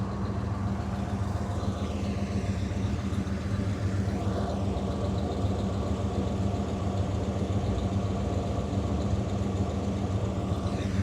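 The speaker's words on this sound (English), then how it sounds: "Very nice period correct exhaust" The period-correct exhaust of a restored 1964 Chevrolet Chevelle Malibu SS with a 327 V8 idles steadily with a low, even rumble, continuous and close, with no talking.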